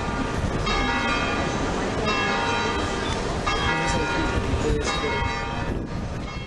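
Notre-Dame cathedral bells ring a carillon melody, driven by an electric mechanism. Dense overlapping peals sound steadily and loudly throughout, with no speech over them.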